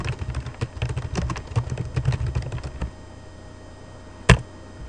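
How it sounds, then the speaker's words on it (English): Close, quick keystrokes clatter on a computer keyboard in a busy irregular run for a few seconds, then stop, leaving quiet room hum broken by one sharp click. "I'll have to type in some information."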